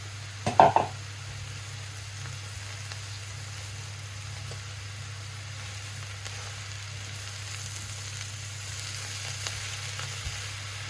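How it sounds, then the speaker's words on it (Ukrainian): Mushrooms sizzle steadily in a pan, a soft continuous crackle with a brief clatter of stirring at the start and a low hum underneath. "мої грибочки смажаться"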